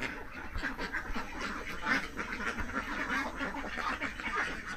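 Ducks kept in a Philippine duck farm quack continuously in a dense, overlapping flock chorus, loud and close with a steady background clamor.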